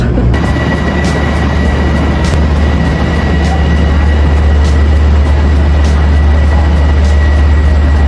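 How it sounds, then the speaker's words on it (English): Loud, steady rumble of an airport train in motion, a continuous roar with faint rattling on top and no voices. "we're almost at the train station, at the airport"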